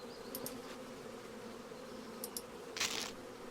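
Bees buzz in the video game Balrum as a steady drone under a faint ambient hum, with a few brief clicks.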